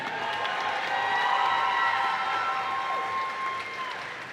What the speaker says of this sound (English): let's get another round of applause for that entire fight right there